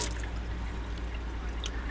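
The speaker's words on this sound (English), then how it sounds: "if I flip the water pump on, we have water. So I have water in the kitchen sink, both cold and hot water sides." Water runs steadily from the kitchen sink tap of a 1991 Winnebago Elandan motorhome, a continuous close splashing pour into the basin at low level.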